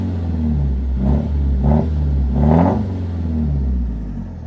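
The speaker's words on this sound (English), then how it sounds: "I'll blip the throttle a bit so you get a better idea." Land Rover Freelander engine with a straight-through exhaust and no silencers, revving in three throttle blips over a steady low idle rumble, loud and close, no talk.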